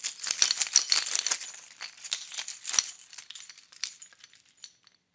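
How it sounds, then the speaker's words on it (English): A bunch of keys jangles and rattles for children in a music and movement session, bright metallic clinking in irregular shaken bursts that fade out toward the end, close and alone. "Let's listen to the keys."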